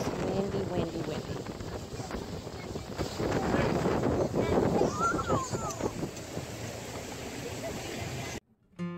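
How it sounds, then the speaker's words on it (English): Wind buffets the microphone in a low, rumbling roar on a boat on Lake Travis, with water and boat noise underneath and muffled voices now and then, cutting off abruptly near the end. "as we were going back, it was just windy, windy, windy."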